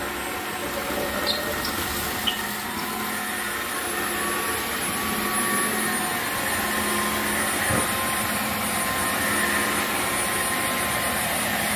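Electric wet floor cleaner running over a dirty floor, a steady loud motor whine and airy drone that continues unbroken, with faint rolling and a couple of light knocks.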